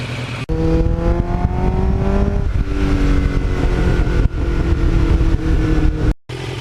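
A 1989 Kawasaki GPX750R sport bike engine revs hard, its loud pitch climbing then dropping and rising again, close and continuous with a brief cut near the end.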